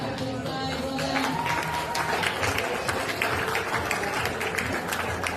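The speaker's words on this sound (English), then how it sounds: "showing their appreciation with a lot of hand clapping there" Spectators at a senior semi-final of a school bouldering cup clap steadily, a dense, continuous patter of many hands that stays loud and even from start to finish, with some crowd noise mixed in.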